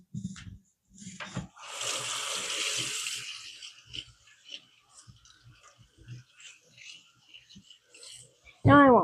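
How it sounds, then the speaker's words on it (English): Tap water running briefly into a kitchen sink while rinsing a spatula during baking, a close steady hiss lasting about a second, then clinks and small handling noises, followed by a voice at the end. "I'll just rinse this one."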